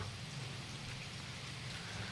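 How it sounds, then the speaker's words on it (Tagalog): Heavy typhoon rain pours steadily in a dense, unbroken hiss with a low rumble beneath, loud and continuous throughout, with no voices. "Grabe lakas ng ulan. May bagyo kasi dito ngayon sa amin."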